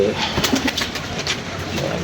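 Pigeons coo in a pigeon keeper's loft, soft repeated throaty calls over a steady background hiss, fairly close and continuous through the moment.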